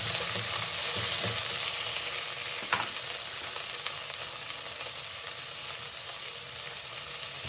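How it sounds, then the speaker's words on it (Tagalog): Tomatoes and labuyo chilies sizzle in a cooking pan while being crushed and stirred, a continuous close frying hiss with soft scraping and a sharp tap partway through, no talk. "Dudurugin lang natin yung kamatis."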